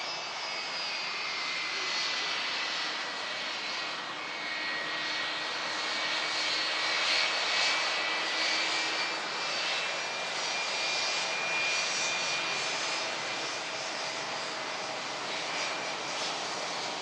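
A Cathay Pacific airliner with Rolls-Royce RB211 engines taxiing, producing a steady, loud jet whine with high tonal hums and a broad roar that swells slightly and holds throughout.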